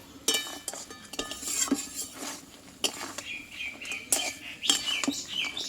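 A spoon stirs a thickening sweet wheat-flour mixture in a pan, giving repeated scrapes and light metallic clinks at uneven intervals. Faint birdsong chirps in the background.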